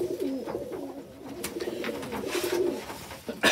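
Racing pigeons coo softly at close range in a loft, low throaty burbling calls repeating over a few seconds, with faint handling noises around them.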